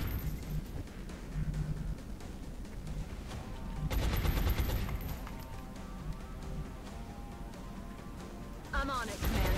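Gunfire in the strategy game XCOM: Enemy Within, Long War mod, a fairly quiet mix of rapid shots and bursts with a louder volley in the middle, under game voice lines.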